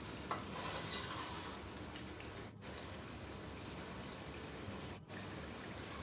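Beef pulao is stirred in a pot over a steady, dense hiss of cooking, with two brief dips where the sound drops out for a moment. The sound is moderately quiet and there is no voice.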